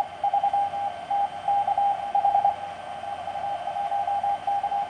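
A CW Morse code radio signal heard through a Hi-Per Mite active CW audio filter with its passband narrowed, a single clear keyed tone sending rapid dots and dashes over a faint hiss of background noise.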